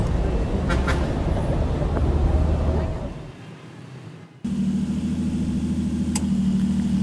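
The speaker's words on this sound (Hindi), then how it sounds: "अरे यार, ये ट्रैफिक को भी अभी ही होना था।" Cars stuck in a traffic jam idle together in a steady mid-pitched engine drone, with a brief dip before a stronger hum takes over; no words are spoken.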